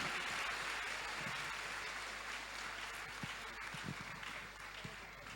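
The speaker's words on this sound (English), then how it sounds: "Keep clapping." A youth summit audience applauds steadily as a guest speaker is welcomed to the stage, a dense, even wash of clapping that holds throughout and tapers slightly near the end.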